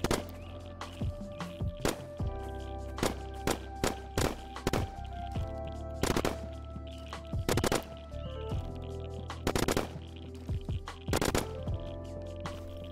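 Rapid bursts of PPSh submachine gun fire in the Roblox survival game Death Zone, loud and close, with repeated short volleys and single sharp shots spread across the stretch against a steady game background hum.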